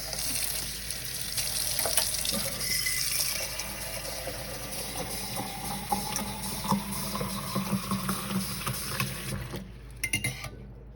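Water runs steadily from a tap in a broad hiss, with a few light clinks, ending in a brief quieter stretch with scattered knocks, hot water being run for treating African violets.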